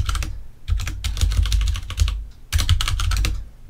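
Code being typed on a computer keyboard, with quick, close clusters of key clicks in three bursts separated by short pauses.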